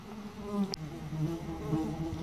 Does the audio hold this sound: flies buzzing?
yes